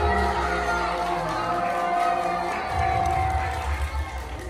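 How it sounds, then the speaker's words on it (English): A crowd at a school book month celebration with Greek mythology costumes cheers and claps, a dense wash of voices and applause that swells near the end. "Give him a big round of applause"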